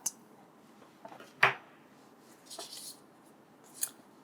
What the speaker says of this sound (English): take your scissors and cut.